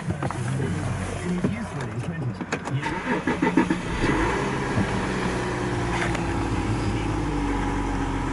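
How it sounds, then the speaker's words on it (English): Volkswagen Touareg Altitude SUV with automatic transmission and about 92,000 miles starting up, a cranking burst followed by a steady idle rumble, close by, with someone talking over it at first. "I'll just jump in the car and start it up"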